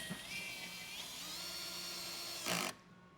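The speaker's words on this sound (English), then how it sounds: "Right now I'm going to try to drive a screw in a hole that's not set already." A 12 volt cordless drill drives a screw into wood, a steady high motor whine held close for several seconds, rising briefly louder near the end before cutting off.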